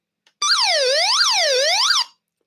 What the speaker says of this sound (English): that alarm with a little red light